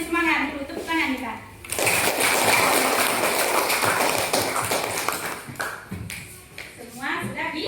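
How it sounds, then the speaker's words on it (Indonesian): Schoolchildren in a classroom burst into rhythmic group hand clapping for several seconds, with a teacher's voice speaking before and after the applause. "Mari kita beri semangat dulu, tepuk tangan kita."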